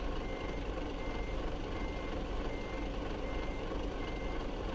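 Volvo truck in American Truck Simulator manoeuvring slowly, with a steady low engine rumble and a continuous reversing beep running throughout at constant loudness, no talk.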